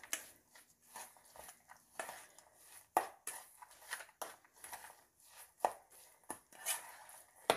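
Sweet potato souffle batter is mixed by hand in a bowl, with quiet, irregular tapping, knocking and scraping strokes, a few sharper clinks among them, close up and without speech.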